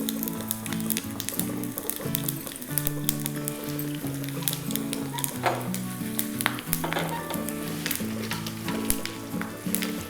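Urad dal, chana dal and garlic frying in hot oil for a tempering give a loud, dense, crackling sizzle with sharp pops and occasional stirring clinks, continuous and close, with no talking.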